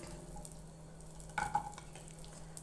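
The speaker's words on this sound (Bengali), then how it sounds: "এখন দিয়ে দেবো রসুন।" Garlic dropped into hot mustard oil with dried chillies already fried, a soft steady sizzle with a few louder bursts of crackle and stirring.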